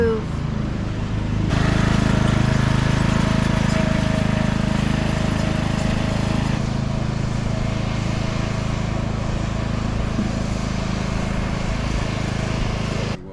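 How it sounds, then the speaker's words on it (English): A lawn mower mowing a backyard lawn in Ohio, its engine droning steadily and fairly close, rising in loudness after a moment and holding an even hum throughout. "I had to be the first one to mow in our neighborhood"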